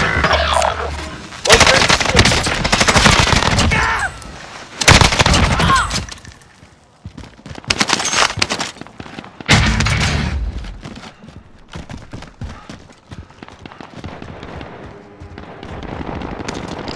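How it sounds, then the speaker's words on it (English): Gunfire in Call of Duty Modern Warfare, loud close bursts of automatic fire in several separate volleys with quieter stretches of game noise between them. "Receiving hostile fire."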